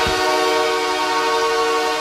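Los Angeles Kings hockey goal horn blaring as a loud, steady, sustained chord with a train-horn character, holding without a break for about two seconds.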